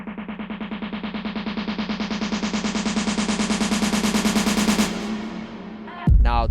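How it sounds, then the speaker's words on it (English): Rapid automatic gunfire sound effects, used in a bassline music track, rattle in a steady, loud burst for about five seconds, then fade, followed by a sharp metallic clack near the end. "is to add the iconic gunshots"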